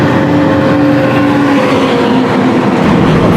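A loud, continuous roar of heavy road trains, including fuel tankers, rumbling past close by on a Pilbara road in Western Australia, with a steady engine drone and road noise throughout.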